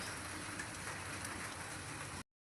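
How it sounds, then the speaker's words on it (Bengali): Light rain falls outside, a soft, even patter of drops that stays steady and faint, then cuts off briefly. "বাহিরে ফোঁটা ফোঁটা বৃষ্টি পড়ছে।"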